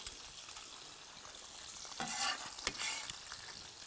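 Chopped white onion drops into a hot pan for a ketchup and dill fish sauce. A quiet background hiss swells into a short burst of sizzling and stirring, then settles back down.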